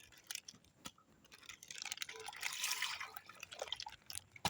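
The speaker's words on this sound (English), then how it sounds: "Let's try pouring some water in and see what will happen." Water pours into a blender jar and drips, a soft splashing trickle swelling midway among scattered drips and taps, close and fairly quiet with no talk.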